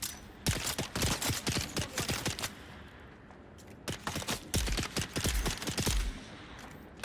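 Gunfire in Dune: Awakening, two bursts of sharp, rapid shots, a dozen or so each, separated by a short quiet gap, fairly close and alone without talk.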